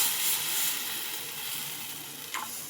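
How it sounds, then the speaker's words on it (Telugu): Masala fries in oil in a covered pan for a tamarind fish curry, giving a steady, soft sizzle throughout with a brief scrape near the end. "మూతని క్లోజ్ చేసుకుని ఆయిల్ అనేది పైకి తేలే వరకు బాగా ఫ్రై చేసుకోవాలి"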